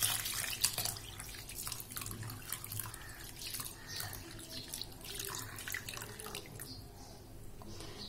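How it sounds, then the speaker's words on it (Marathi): Water poured from a tap or vessel over washed rice and lentils set to soak, a close, steady splashing stream with small irregular gurgles, fairly faint and with no voices. "आता आपण याच्यामध्ये भिजण्यासाठी पाणी घालूया।"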